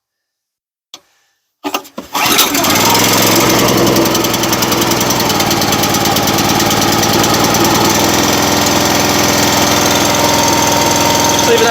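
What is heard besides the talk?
Wolfe Ridge 17RS log splitter engine starting and idling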